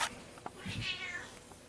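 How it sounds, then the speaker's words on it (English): A cat meows loudly in the foreground, with one drawn-out, wavering cry rising and falling over about a second beside a quiet room, with no other voices in the background. "Alright, cat, knock it off."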